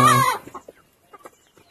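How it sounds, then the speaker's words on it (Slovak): A rooster on a village farm gives a loud, close crow that breaks off into a few soft, scattered clucks and small calls from the flock. "sú tu samé kohúty, toto je kohút"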